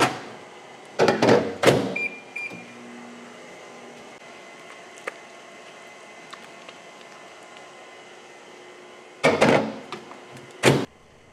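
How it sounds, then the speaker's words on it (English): Microwave oven melting peanut butter: a low steady hum runs throughout, framed by loud door and button clunks and beeps at the start and again near the end. "while we microwave our peanut butter"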